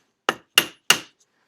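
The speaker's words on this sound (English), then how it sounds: "Actually, this is a excellent use for my little hammer." A small hammer taps a hand plane blade three times at an even pace, sharp metallic strikes ringing briefly, close and clear with silence between them, while the blade is adjusted during restoration of a vintage woodworking hand plane.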